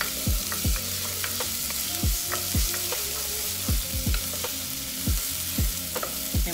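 Food sizzling and frying in a pan, a steady crackling hiss broken by repeated clinks and scrapes of a utensil stirring, close and moderately loud, with no talking.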